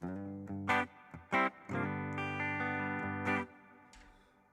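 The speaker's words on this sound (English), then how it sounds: "And that is a modulated reverb for sure." Electric guitar played through a modulated large hall reverb effect, a few picked notes and sustained chords ringing with a wide, shimmering wash that swells and lingers before fading; no voices.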